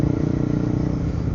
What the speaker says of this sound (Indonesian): Banyak anak-anak motor metik ini cuy.